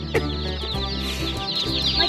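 A large flock of over a hundred chickens clucking and squawking together, dense overlapping calls close by with sharp individual cries popping out of the steady din.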